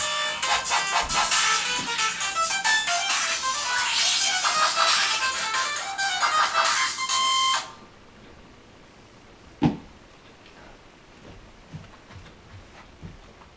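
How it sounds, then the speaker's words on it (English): A mobile phone rings indoors, a dense warbling electronic ringtone that runs for several seconds before cutting off abruptly, followed by quiet room noise and a few small knocks. "And my phone's going off."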